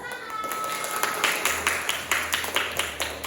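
A class doing the 'tepuk salut' clapping cheer, a series of crisp group claps in a quick rhythmic pattern that ends in a brisk run of beats, with voices faintly around it.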